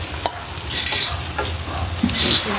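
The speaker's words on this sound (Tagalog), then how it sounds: "Haluin po ng mabuti." Bihon noodles tossed and stirred in a hot pan, a brief burst of sizzling with scraping and clinks from a utensil against the pan, close by and without speech.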